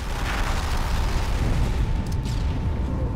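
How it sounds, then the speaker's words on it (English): Grenade blasts in Halo 2 merge into a dense, sustained rumble of low booming explosions, loud and continuous with no clear gaps. "All these grenades!"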